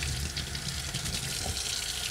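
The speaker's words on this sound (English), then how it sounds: "Got a little cool water coming in now." Cool tap water runs steadily into a sink while a 3D printed part is rinsed, a constant broadband splashing hiss heard alone at low level.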